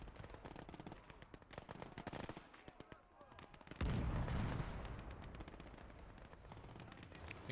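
Rapid bursts of gunfire from a Puma armored car rattle through a Gates of Hell battle, automatic fire crackling amid explosions and a louder heavy blast midway, with a commentator talking throughout.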